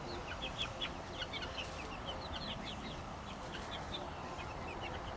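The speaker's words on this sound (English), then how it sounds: "Annabella, Anna, be nice to the chickens" Chickens cluck softly in the background with scattered faint calls over a steady outdoor hiss, distant and low in level, no voices.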